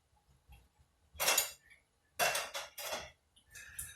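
A utensil stirring Spanish rice seasoning in a pan gives a few short scraping, clinking bursts separated by near silence, quiet and close.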